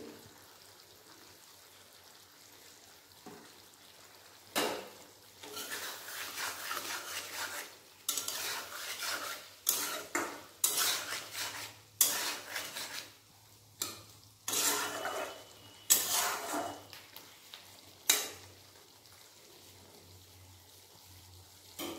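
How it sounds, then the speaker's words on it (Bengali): A spoon stirs bitter gourd vegetable curry in a pan, scraping and clinking against the metal in irregular bursts of strokes separated by short pauses, close and moderately loud. "করলা ভালো করে মিশিয়ে নেব।"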